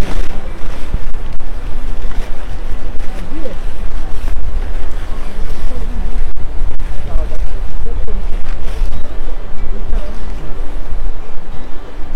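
Strong wind buffets the microphone at a mountain campsite in Yumthang Valley, Sikkim, as loud continuous rumbling gusts that rise and fall and partly cover a voice.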